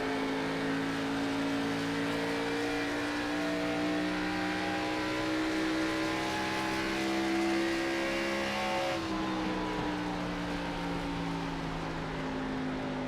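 A stock car engine in the iRacing Xfinity Series racing game drones loud and continuously at Nashville Superspeedway, its pitch holding steady, then dipping slightly as it backs off, with other cars' engines layered close behind.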